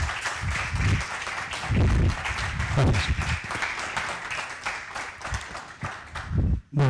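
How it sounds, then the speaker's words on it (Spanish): An audience at a talk on the new space industry claps to welcome a speaker, a dense burst of applause that tapers away, followed by a brief spoken thanks. "Le recibimos con un fuerte aplauso"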